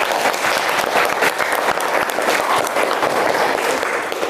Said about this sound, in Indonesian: Tepuk tangan untuk kalian sendiri.